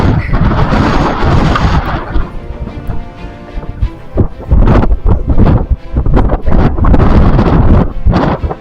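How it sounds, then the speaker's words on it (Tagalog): Strong wind sweeps across a mountainside, battering the microphone in loud, gusting roars that ease briefly and then surge back. "Mahangin lang mga idol."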